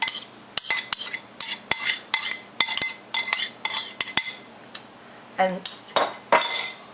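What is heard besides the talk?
mixing shredded gluten mock turkey with garlic oil marinade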